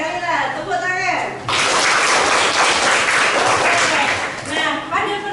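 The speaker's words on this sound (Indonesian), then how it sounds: "Tepuk tangan." A classroom of students claps together in a lesson, a dense burst of applause lasting a few seconds between stretches of a teacher's speech.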